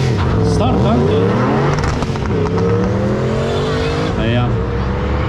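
Race cars launch hard off the starting line at a drag-style start, engines rising in loud overlapping revs close by, with an announcer speaking over the roar.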